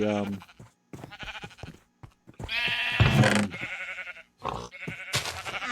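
Sheep bleating in the video game Minecraft, several short, nasal bleats in a row, fairly close and clear, with gaps of silence between calls.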